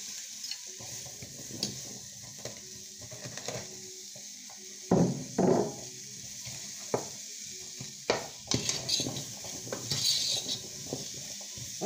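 Onions and carrots sautéing in a pot, a soft steady sizzle broken by spoon stirring and scraping strokes and occasional light clinks of utensils against the pot, close and alone without voices.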